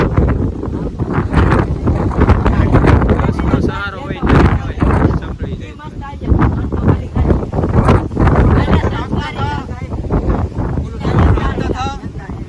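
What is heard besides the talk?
strong wind blowing on a hill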